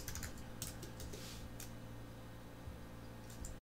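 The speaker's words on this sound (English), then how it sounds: "these notes that I'm typing in" Keys clatter steadily on a computer keyboard as notes are typed, a quiet run of light irregular clicks over a faint hiss with no talking.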